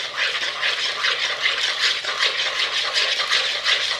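A spoon stirs lime bundt cake batter in a bowl, making a close, steady scraping and rattling with quick repeating strokes and no voices.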